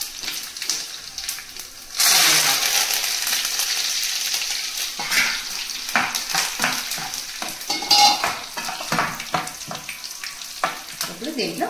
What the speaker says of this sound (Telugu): ఇప్పుడు పప్పుకు తాలింపు వేసుకుందాం